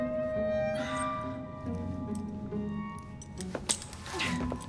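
Keys jangle and clink briefly in Assassin's Creed Syndicate, a few close metallic chinks over a low hum of background ambience.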